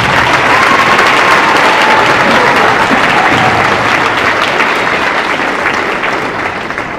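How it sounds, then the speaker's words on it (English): A large audience at a school winter concert claps in sustained, loud, dense applause that gradually tapers near the end. "Can we have another round of applause for our work?"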